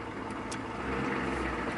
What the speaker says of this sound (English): The engine is idling at 1000 RPM